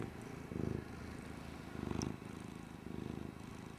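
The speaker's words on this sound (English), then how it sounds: "He is purring." Soft, close cat purring in three steady pulses, rising and falling with each breath in a quiet room.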